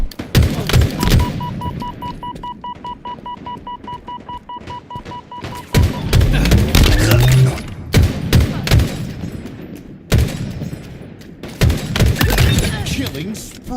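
Rapid bursts of gunfire and explosive thumps from a Halo Infinite multiplayer match, loud and near, dense volleys coming in waves with brief lulls, mixed with game announcer voice and other talk.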